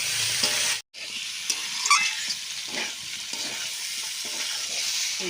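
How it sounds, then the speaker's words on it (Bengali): Mutton and green peas sauté for ghugni in a pan, a continuous bright sizzle with scraping stir strokes, close and steady apart from a brief silent cut near the start. "একসাথে কষে নেব।"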